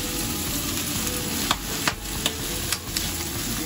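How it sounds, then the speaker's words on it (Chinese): Beans stir-fried in a pan give a steady close sizzle, with a few light scrapes and taps of the utensil against the pan as they are tossed. "炒下啲豆啊，香啲咯。"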